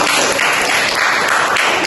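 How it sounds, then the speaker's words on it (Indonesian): A classroom of students applauds during a microteaching lesson, a steady, dense burst of clapping held at an even level for the full two seconds with no talk over it. "Berikan tepuk tangan untuk Rudi."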